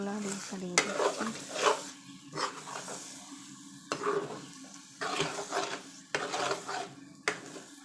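Fish roe frying in a pan after bottle gourd, being stirred and broken up, soft sizzling with intermittent scraping and clinks of a spatula against the pan, fairly quiet and close.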